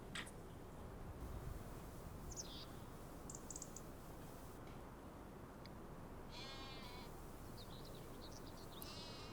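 A few faint sheep bleats from Farming Simulator 25 surface over a soft, steady ambient bed, with occasional light clicks in the background.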